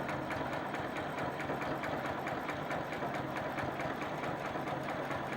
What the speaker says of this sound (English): I'm going to sew a few starter stitches